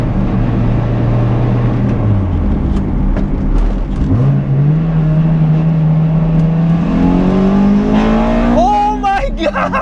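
A 2000 Toyota MR2 Spyder with a swapped 2ZZ engine revs steadily upward from inside the cabin, the pitch climbing sharply as it crosses into VTEC near the end, with an excited voice talking over it.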